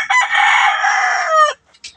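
A Boston Roundhead cross gamefowl rooster, an open-air two-time winner, gives one loud, close crow that holds for about a second and a half and then cuts off, followed by a couple of faint clucks.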